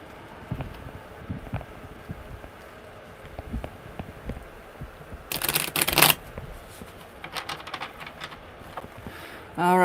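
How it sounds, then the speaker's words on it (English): Tarot cards being shuffled by hand, a soft papery riffling with a brief louder burst of card flicks near the middle, close up over a quiet room. "one more good shuffle"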